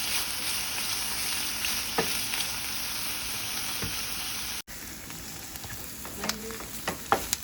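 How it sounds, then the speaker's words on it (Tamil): Paneer sizzles and sautés in a pan at a steady low level, with occasional clicks from stirring and a brief break midway before the frying hiss resumes. "ரொம்ப வதக்க வேணாம், ஒரு 2 மினிட்ஸ் வதக்கினா போதும்."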